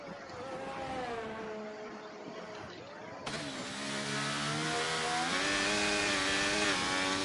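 Racing car engine on a lap of Monaco in a racing video game: a steady, close, high revving drone with gear-shift pitch drops and rises, building slightly louder through the lap.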